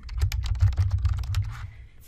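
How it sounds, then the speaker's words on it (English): Fingers type on a computer keyboard at close range in a quick, uneven run of clicking keystrokes with a low thump beneath, slowing and stopping near the end; no one speaks. "you might do something like select and start typing"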